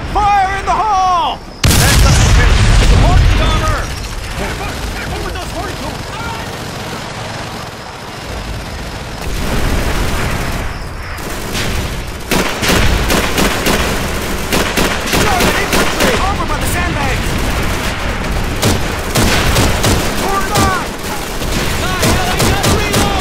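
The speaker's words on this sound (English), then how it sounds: "Take cover! Charge is planted! Fire in the hole!" A planted charge detonating and heavy gunfire in Call of Duty 3 on Falaise Road: a loud blast early on, then a quieter stretch before rapid, sustained volleys of rifle and machine-gun fire with voices shouting over the battle.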